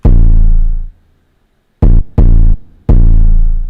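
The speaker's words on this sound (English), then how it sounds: "I literally just did it like it's Ableton and pasted the 808s in so I could cut them off like this one." Drill beat built from deep 808 bass notes that are abruptly cut off: a long booming sub-bass tone decays, then three short chopped 808 hits follow in quick succession, loud and close.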